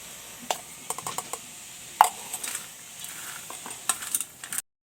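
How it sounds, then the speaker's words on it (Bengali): Cut potatoes being mixed with salt and turmeric: quiet, irregular clicks and soft scrapes, with a few sharper knocks, in a calm kitchen with no talking. "এবার আমি কেটে রাখা আলুর মধ্যে লবণ ও হলুদ দিয়ে ভালোভাবে আমি আলুটা একটু মাখিয়ে নেব"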